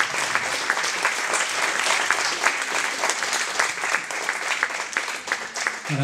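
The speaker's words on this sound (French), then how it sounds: "On va les applaudir très fort, s'il vous plaît." A film festival audience claps steadily and warmly for several seconds, a dense, even patter of hands with no voices standing out.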